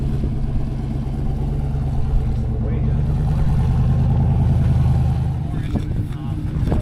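A car engine idles and rumbles at low speed as Paul crawls forward over a rough line, steady droning close by, with voices talking over it.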